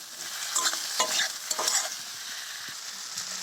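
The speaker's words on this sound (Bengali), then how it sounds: "এবার আমি এটাকে একটু কষিয়ে নেব।" Potato curry sautéing in a pan with steady sizzling and several scraping stirs near the start and middle, close and moderately loud, with no talking.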